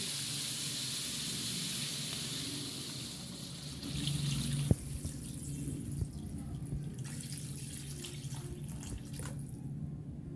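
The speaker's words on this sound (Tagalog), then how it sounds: "I'll add water." Water runs from a tap into a pot of chicken tinola, a steady hissing pour that shifts in tone partway through, with a few clanks and knocks near the end.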